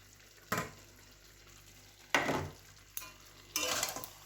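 Meat with spice paste fries in oil in a quiet kitchen, heard as a few separate bursts of sizzling and stirring, each lasting under a second, with hush between them.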